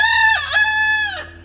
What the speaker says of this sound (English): there's so much noise out here between the chainsaw and the roosters